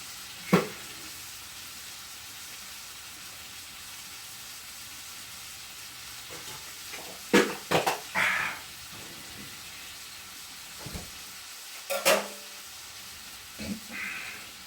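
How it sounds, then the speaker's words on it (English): Food being stirred in a cooking pot with smothered cabbage and black-eyed peas, faint sizzling underneath with several sharp scraping and clattering bursts spaced irregularly. "Give those a stir."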